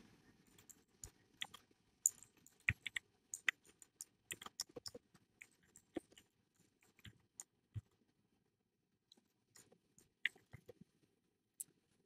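Computer keyboard typing while writing C code, a quiet scatter of light irregular key clicks with short pauses between bursts, close and faint, with no talking.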